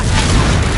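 A Confringo fire spell explosion in the game Hogwarts Legacy, a loud, dense, roaring blast that fills the short moment with sustained rumbling noise.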